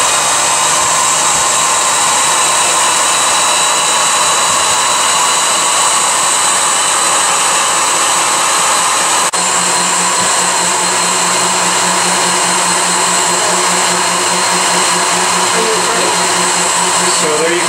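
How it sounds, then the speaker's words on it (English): Honey extractor spinning during a first-year honey harvest, a loud, steady mechanical whirring drone that runs continuously and shifts pitch slightly midway, close up and alone without talk. "So there you can see our first batch of honey coming out of the extractor."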